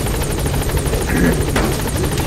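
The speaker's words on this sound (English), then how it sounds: "We go get back in the helicopter." Helicopter in the video game Metal Gear Solid V, a steady rotor drone with rhythmic blade chop filling the whole stretch at constant loudness, no speech.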